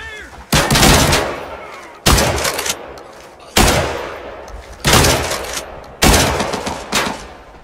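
Five heavy gunshots ring out at roughly even intervals of about a second and a half in the Arena Breakout video game. Each is a loud, sharp blast with a long reverberant tail that fades before the next, and there is no talking.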